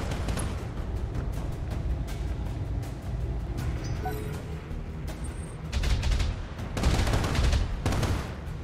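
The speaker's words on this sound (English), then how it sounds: "we have to suffer only one turn of rocket fire." Rocket fire in the Battletech game arrives as a barrage of rapid explosive bursts and rumbling impacts, dense and loud, swelling into heavier volleys near the end without any talking.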